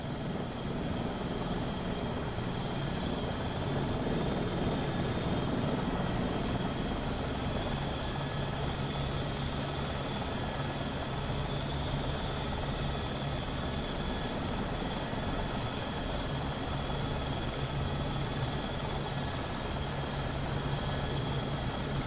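Dreamfoil AS350 helicopter flying in the X-Plane flight simulator game, a steady unbroken engine and rotor drone that holds at an even loudness the whole time, with no voices over it.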